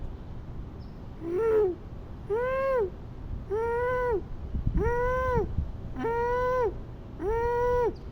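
A human voice imitates a koel, producing throat-constricted, hooting calls during a pranayama breathing exercise, six or seven rising and falling tones repeated at a steady rhythm, close and clear with brief pauses between them.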